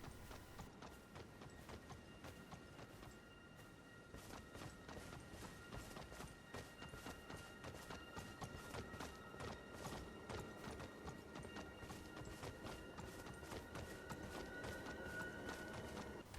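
Horse hooves in Elden Ring, a steady rhythmic clip-clop of a horse trotting closer, quiet at first and growing slightly louder and denser, with no talk.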